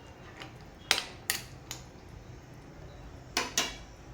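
Tamarind is stirred into a clam curry in a pot, giving several sharp metallic clanks of a spoon against the pot, two in quick succession at a time, over a quiet background with no talk.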